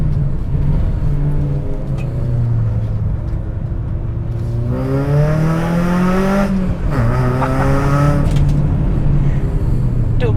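A Mitsubishi Lancer rally car with a Borla exhaust, its engine droning and then revving up and down in repeated swells, loud and close from an in-car position with no talking.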